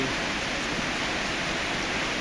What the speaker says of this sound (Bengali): ভেজা ঘাসে বৃষ্টি